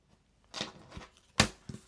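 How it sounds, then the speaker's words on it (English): Two quick bursts of tarot cards being riffled and shuffled, close and crisp, with a short pause between them and a softer rustle at the end. "You saw me shuffle the crap out of those cards"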